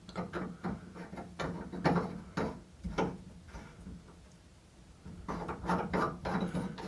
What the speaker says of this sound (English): we're just going to put this collar on there and screw it back in